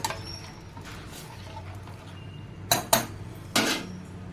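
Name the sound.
stirring onion teeyal in a pot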